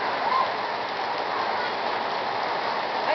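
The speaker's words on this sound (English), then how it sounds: "I have never seen a rainstorm this calm before" A calm rainstorm in Utah gives a steady, even patter of rain on surfaces, dense and unbroken for a few seconds with no other sounds.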